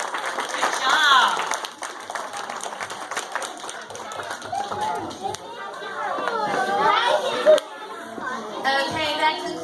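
Audience clapping after a children's Christmas nativity play, a moderate round of applause mixed with children's chatter and adult voices in a hall.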